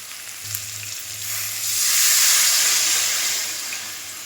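Mustard and poppy seed spice paste frying in oil for sorshe ilish, a steady close hiss and sizzle that swells louder midway, with a faint low hum underneath and no talking.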